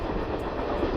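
A train in a video game rattles steadily along the rails with a continuous rumbling clatter, heard from inside the carriage, loud and unbroken.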